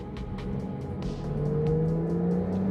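A Porsche 992 Carrera GTS, roughly 450 horsepower, accelerating on the road around South Miami, its engine note rising steadily in pitch over continuous road and wind noise, heard from inside the car without talk.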